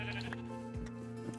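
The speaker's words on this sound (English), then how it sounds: "as I go by, I've just been shearing the sheep." A single sheep bleats once in a video game, faint and short, over a constant low background hum.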